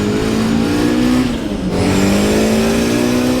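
A Nissan Silvia with a 500-horsepower SR20 engine revs up loud and close, its note climbing steadily, dipping briefly as it shifts, then climbing again with a harsh, droning tone.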